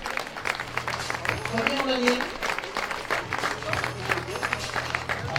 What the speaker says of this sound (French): je demande de les applaudir encore une fois très très fort